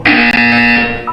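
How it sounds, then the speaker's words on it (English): A loud, steady electronic buzzer tone from the Portal 2 video game, sounding alone for about a second before it cuts off briefly and then returns as a short warbling tone. "When you hear the buzzer, look up at the ceiling."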